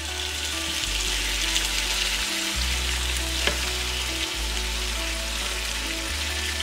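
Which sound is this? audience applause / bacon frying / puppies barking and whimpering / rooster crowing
bacon frying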